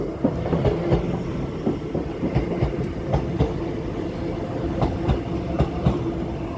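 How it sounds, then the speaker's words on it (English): A Grand Central Class 221 Super Voyager train rolls along steadily, wheels clicking over rail joints in an irregular clickety-clack above a low, continuous rumble. "This is Grand Central's Class 221 Super Voyager"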